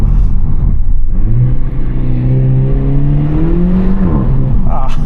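A loud engine of a 2024 Renault Megane RS 300 Trophy hot hatchback revs and accelerates from inside the car, pitch climbing steadily through a gear before easing off at the end.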